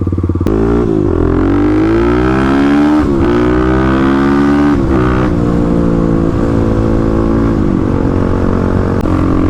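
A 35 hp Kawasaki KLX351 dual-sport motorcycle on its first ride, on worn stock Dunlop 605 tires, its engine loud and close throughout, revving up and down through several gear changes with a steady rising and falling drone.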